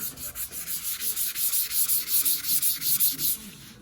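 Steady hand sanding on a car body, working out 180-grit scratches with rhythmic back-and-forth rubbing strokes, close and continuous without pauses.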